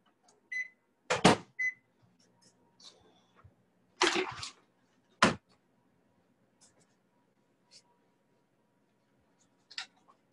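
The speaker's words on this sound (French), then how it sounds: "300 g de liquide que je vais faire tiédir légèrement au micro-ondes" A microwave oven gently warms 300 g of liquid, giving a low, steady hum under scattered sharp clicks and knocks from nearby handling, with no talking.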